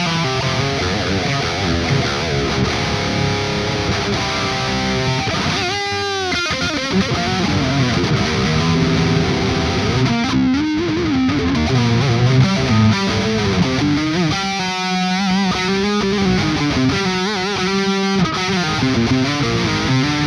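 Electric guitar played through a ToneX One pedal on a Stealth EL34 amp capture, giving a distorted, saturated tone with sustained chords and riffs, a few brief pauses and sharp strums, steady and loud, with no talking.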